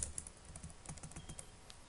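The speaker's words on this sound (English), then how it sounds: "so let's type our for loop" Rapid keystrokes on a computer keyboard while entering a PHP for loop, a close, steady patter of clicks with no speech.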